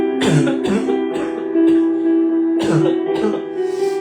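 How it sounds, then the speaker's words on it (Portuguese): Several harsh coughs come in bursts, close and loud, with a short pause between two clusters. "A tosse está demais aqui."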